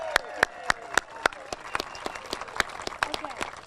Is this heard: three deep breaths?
no